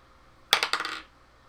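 Dice rolled during a tabletop role-playing game clatter briefly on a hard surface, a quick burst of several rapid rattling bounces that settle within about half a second.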